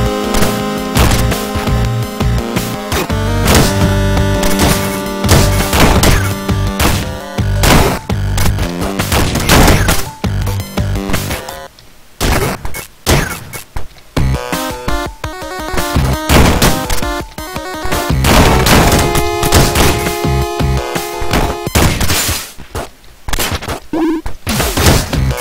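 Rapid bursts of gunfire from a shotgun in the video game Downwell crackle loudly and almost nonstop over the game's music, easing briefly in the middle before picking up again.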